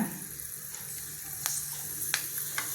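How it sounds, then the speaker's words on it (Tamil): Fenugreek seeds sizzle in hot sesame oil in a pan, a continuous close hiss with a few sharper pops and crackles breaking through. "ஆயில் ஊற்றிருக்கேன், நல்லெண்ணெய் ஊற்றிருக்கேன். வாங்க வெந்தயம் போட்டுடலாம்"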